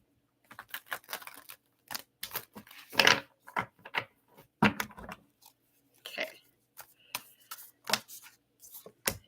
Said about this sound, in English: Let me get my shuffles in.